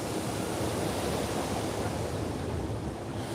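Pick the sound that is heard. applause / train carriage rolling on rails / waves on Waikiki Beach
waves on Waikiki Beach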